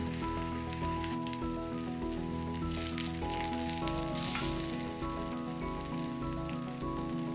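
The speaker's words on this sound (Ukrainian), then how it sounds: "Млинці перевернули, смажаться з іншої сторони." Steady sizzling of meat-stuffed pancakes frying in a pan, a constant crackling hiss over a droning background tone, with no voices.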